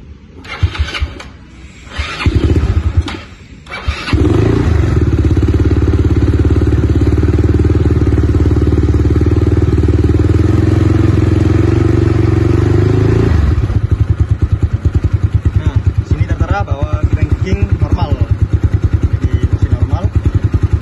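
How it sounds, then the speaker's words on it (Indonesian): A vehicle engine is started during a maintenance battery check, cranking and catching before settling into a loud, steady idle close by, with a brief voice heard early on. "Kita akan menghidupkan engine terlebih dahulu."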